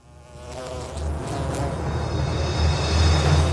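A fly buzzes in a flytrap catching game, its high, whining drone growing steadily louder and closer. The sound stays continuous with slight pitch wobbles as the insect moves about.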